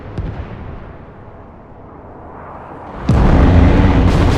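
Explosions from an aircraft strafing run in the Broken Arrow video game: a low rumbling bed suddenly gives way to a loud, sustained burst of blasts that fills the final second of the clip.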